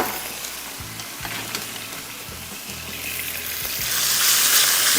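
Chicken pieces sizzle steadily in hot cooking oil in a pan, a close, continuous frying hiss with occasional stirring scrapes, swelling louder toward the end.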